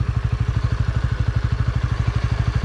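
Honda Winner X motorcycle engine idling during break-in, a steady rapid low-pitched putter with even pulses, close and loud, running alone without talk.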